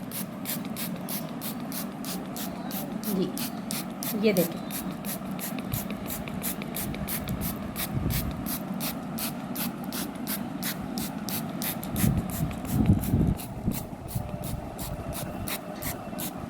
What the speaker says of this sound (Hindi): अब मैं इस पूरे मेज़ के ऊपर, शीशे के ऊपर जो है ये मैं इसका स्प्रे कर दूँगी।